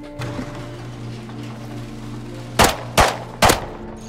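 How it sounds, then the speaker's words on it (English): Three quick, loud gunshots in the Rust survival game, evenly spaced and close by, fired after a stretch of steady humming ambience. "Someone just try to shoot me."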